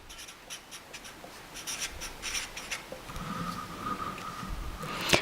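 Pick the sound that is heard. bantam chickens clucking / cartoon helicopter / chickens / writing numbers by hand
writing numbers by hand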